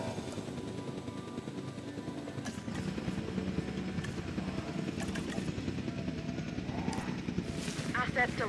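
A helicopter in Jurassic World Evolution 2 carries a dinosaur, its rotor and engine drone steady and fairly faint throughout, with game sound effects and a voice heard on top.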